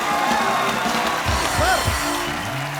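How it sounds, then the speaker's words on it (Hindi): Studio audience at a comedy talk show clapping and cheering with broad steady applause, while a voice sounds over the crowd. "लोग इतना एंजॉय कर रहे हैं, क्या बात है सर, जोरदार तालियां हैं"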